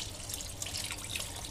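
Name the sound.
water being poured into curry gravy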